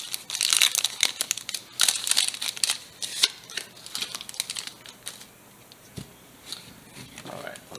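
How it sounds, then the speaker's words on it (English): A Pokemon Sun and Moon trading card pack being torn open, with repeated crinkling and tearing of foil wrapper in close bursts, followed by a few quieter rustles. "Alright, let's get this last pack opened up here."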